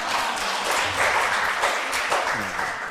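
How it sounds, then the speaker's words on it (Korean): Congregation applauding during a Wednesday church service, steady clapping of a moderate crowd for about three seconds, with some faint voices mixed in. "그 격려 박수라도 한번 해드리십시오."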